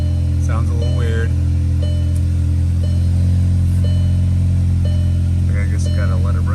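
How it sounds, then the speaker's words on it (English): 2016 VW Passat 1.8 engine running at cold start, a loud steady idle hum with a rough, uneven undertone, close up, while someone talks over it. "It's cold starting right now, so it's making all kinds of noise, but sounds a little weird."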